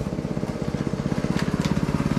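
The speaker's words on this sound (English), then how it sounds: "Best thing a jump starter could do is to be able to start a vehicle just by jumping the starter like this." A dead tractor with no battery, cranked by a Lokithor J3250 jump starter: a steady, rapid chugging of the starter turning the engine over, loud and close, with even rhythmic pulses and no talk.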